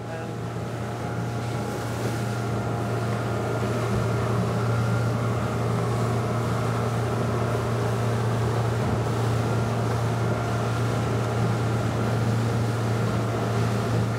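A 2021 Saxdor 200 Sport open motorboat runs at speed into waves, its engine droning steadily under a constant loud wash of water and wind noise for the whole stretch.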